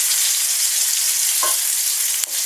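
Mushrooms and onion sizzle steadily in a hot oiled pan, a constant bright frying hiss with a brief stir and a sharp clink near the end.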